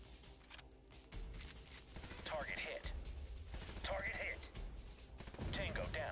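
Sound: gunfire in the video game USC Counterforce

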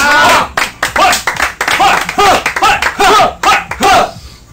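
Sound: clapping for five participants

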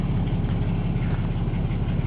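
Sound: 1953 International rat rod truck engine idling

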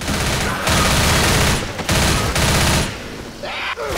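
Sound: gunfire in the video game Left 4 Dead

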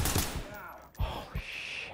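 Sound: gunfire from an enemy in the video game Ready Or Not

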